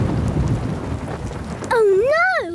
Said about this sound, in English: Oh, no! It's a thunderstorm!